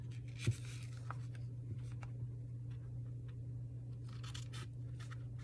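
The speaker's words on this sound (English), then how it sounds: "I'm just going to cut halfway in the page" Scissors cutting through a paper page, soft, faint snipping and scraping in short irregular strokes over a steady low hum, with no talk.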